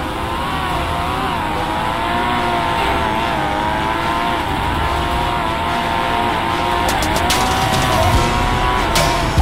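Cars race in GTA RP, a steady loud engine drone with rising and falling revs, brief tire squeals and clicks near the end, no talk over it.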